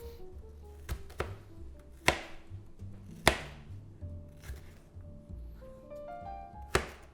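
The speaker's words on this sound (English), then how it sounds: "Now you just want to cut up the onion" A knife chopping onion on a cutting board in a home kitchen, with a handful of sharp, irregularly spaced thunks against the board and quiet background between strikes.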